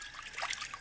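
Clear water from a spring or stream trickles gently and steadily outdoors, a soft continuous dribble with faint splashes.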